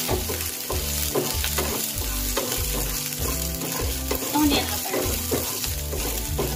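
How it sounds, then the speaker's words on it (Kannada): Green chillies frying in a pan for a Mangalore-style mutton curry, with steady loud sizzling and a rhythmic low thumping of stirring throughout, no talk. "ಇವಾಗ ಇದಕ್ಕೆ ಗ್ರೀನ್ ಚಿಲ್ಲಿ ಹಾಕೋಣ ಇದು ಕೂಡ ಒಂದು ಸ್ವಲ್ಪ ಹೊತ್ತು ಚೆನ್ನಾಗಿ ಫ್ರೈ ಆಗಬೇಕು"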